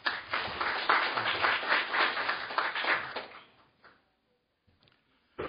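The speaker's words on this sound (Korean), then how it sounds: "박수로 맞이해 주시면 감사하겠습니다." Audience applause at a Korean policy forum on national liver health, a burst of many hands clapping that fades out after a few seconds, followed by near silence and a brief noise at the end.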